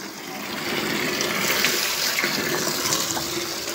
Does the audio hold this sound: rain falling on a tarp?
no